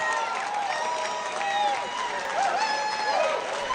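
A large crowd cheers and applauds someone speaker, a dense, sustained roar of voices, whoops and clapping that fills the whole stretch.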